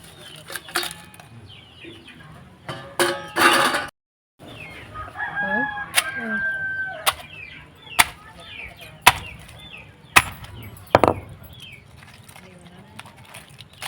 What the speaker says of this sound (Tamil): இதை வந்து அந்த உரல்லே போட்டு சும்மா ஒரு ரெண்டு மூணு இடி மட்டும் இடிச்சிக்கலாம்